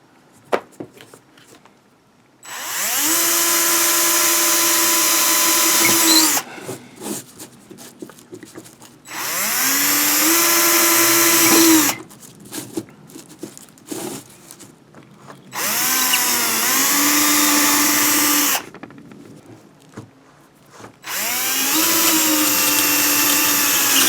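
Power drill driving a 1.5 inch bolt into a studio-scale Return of the Jedi AT-ST model ankle, four loud sustained whirring bursts of several seconds each, separated by short pauses with faint handling noises.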